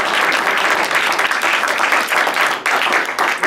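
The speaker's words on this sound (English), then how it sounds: "Could we just give him a round of applause for being here today?" An audience at a Washington governor's event claps loudly and continuously, a thick, close roar of many hands that swells and dips slightly but never stops.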